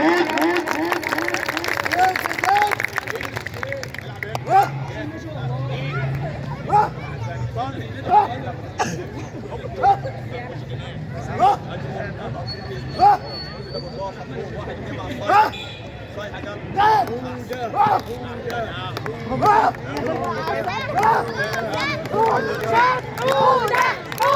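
Crowd noise at a karate kata display during a community remembrance event at a youth center, a steady murmur of many voices with repeated sharp shouts and bursts of encouragement spread across the span, fairly loud and close.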